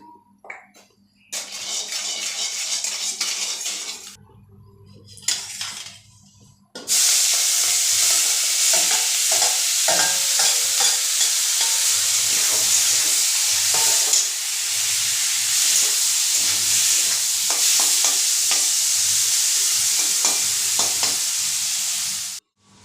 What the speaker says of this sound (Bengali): চিংড়ি মাছ ভাজা হয়ে গেছে, নামিয়ে নেব।